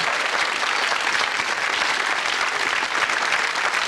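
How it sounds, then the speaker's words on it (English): A television game show studio audience bursts into loud, dense applause and cheering, a close, unbroken wall of clapping that lasts the whole few seconds. "A huge cheer if we can."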